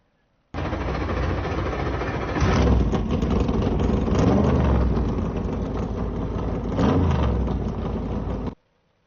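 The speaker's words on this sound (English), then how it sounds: "Drivers, start your engines!" A field of 358 modified race cars fires up and idles at a speedway, a loud continuous rumble of many engines with swelling revs around the third and seventh seconds, then cutting off abruptly.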